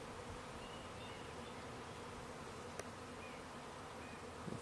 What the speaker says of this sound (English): Somewhere in that cacophony of swirling bee life is the queen.